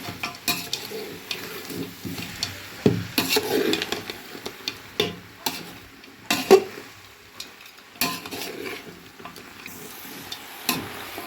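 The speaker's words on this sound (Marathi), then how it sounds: "मिक्स करूया बघा मटण सगळं टाकले आपण आता" Mutton from a village-style chicken curry is stirred in a pan with repeated scraping strokes and a soft sizzle underneath, steady and close, with no talk.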